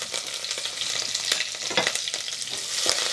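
Dried red chillies, green chillies, coriander seeds and curry leaves fry in hot oil for a spinach dal, with a bright crackling sizzle and a few close spatula taps.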